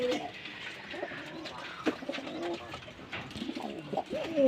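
Several pigeons coo softly nearby in low, throaty warbles at a Giribaz pigeon farm in Rajshahi, with faint rustling and scattered clicks in the background.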